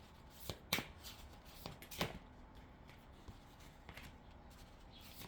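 Oracle cards being shuffled by hand, with soft papery riffles and flicks in short uneven bursts, close and quiet against faint room noise, with no talking.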